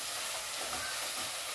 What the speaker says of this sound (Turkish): mercimeklerimizi de kavuralım sizlerle birlikte